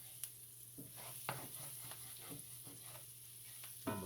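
A spoon stirs and scrapes the bottom of a pan where liver was just cooked, with repeated soft scraping strokes over a steady, faint sizzle.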